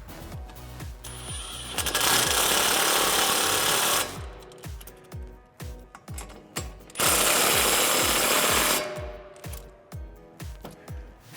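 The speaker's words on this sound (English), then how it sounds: "now you're gonna use your 12mm socket to tighten up your caliper bolts" A ratchet with a 12mm socket tightening caliper bolts on a 2005-2014 Ford Mustang, rapid close metallic clicking in repeated runs with two longer loud whirring stretches, no talking.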